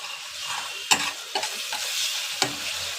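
Dried fish frying in a pan with chopped aromatics, turmeric, chilli and Kashmiri chilli powder, being stirred: a continuous close sizzle with a few distinct scraping strokes of the spoon, no voices.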